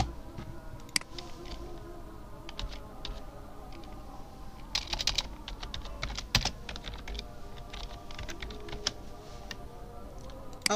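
A computer keyboard clatters with continuous typing while a design is built in Adobe Illustrator, quick light key taps at close range with occasional louder clicks and no speech.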